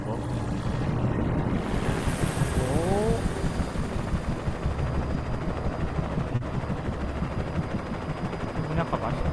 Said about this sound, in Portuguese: Tem um helicóptero.